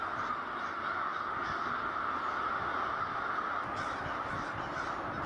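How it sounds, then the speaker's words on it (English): A large flock of crows caws in a dense, continuous chorus as birds burst from their perches, many overlapping calls blending into a steady, loud wash with no gaps. "there are occasional bursts of large numbers of crows leaving their perches"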